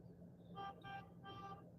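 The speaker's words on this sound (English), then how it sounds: "Somebody's honking." A car horn honks three short times outside, faint and distant, in an uneven rhythm over a low background hum.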